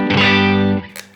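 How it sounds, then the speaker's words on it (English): Electric guitar on its neck pickup, Strat-like, through a Line 6 Helix HM30 tone-match patch with drive and effects: one sustained, slightly distorted chord ringing close and loud, then cut off, followed by a brief pick scrape. "I'm going to start with just the neck pickup here. Sounds like a Strat on the channel 1."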